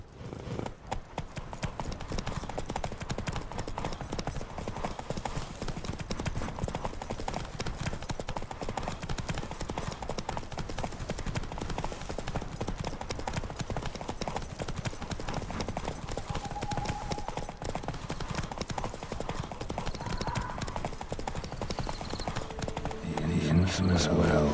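Horse hooves clip-clop in a steady, continuous trot in The Witcher 3, loud and close throughout, with a voice speaking over part of it.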